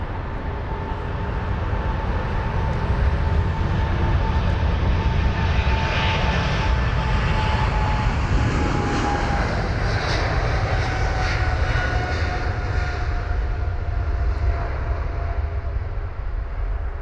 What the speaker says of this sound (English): There goes the Boeing 777